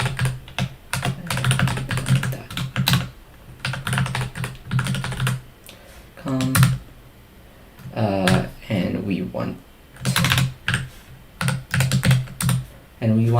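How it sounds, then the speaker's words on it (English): An email address is typed on a computer keyboard in quick bursts of close, crisp key clicks, broken by short pauses, with a person talking in between. "And now we're going to type in our email."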